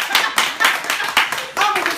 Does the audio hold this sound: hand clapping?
yes